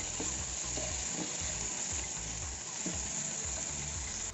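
Chopped tomatoes sauté in a hot pan for gram flour chutney, a steady close sizzle with soft scraping stir strokes at intervals, no talking.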